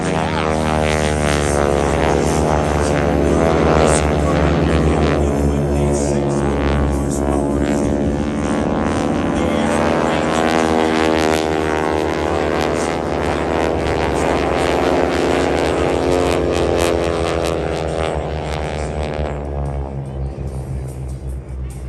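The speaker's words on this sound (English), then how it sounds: "As the speed from the diameter of the propeller starts to increase in RPM, it goes supersonic" A propeller-driven fixed-wing aircraft flies past at an air show, its loud, throbbing engine and prop drone holding strong and steady throughout before easing slightly at the end.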